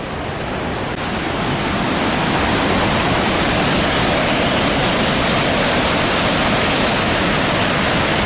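Water pours over the dam spillway at Cachi, Costa Rica in a steady, loud, broadband roar that fills the scene and never changes, with no voices heard.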